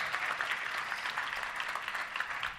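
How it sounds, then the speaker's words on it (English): Applause from a luncheon crowd at a Little Rock Touchdown Club meeting, a bright, even patter of many hands clapping at moderate distance, sustained throughout. "Let's give everybody a round of applause for purchasing those."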